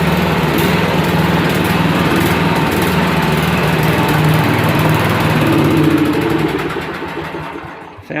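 A Dixon riding lawn mower engine runs loud and close, a steady buzzing drone that holds for several seconds before easing down near the end, with no talking over it.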